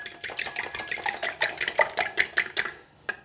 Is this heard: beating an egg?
yes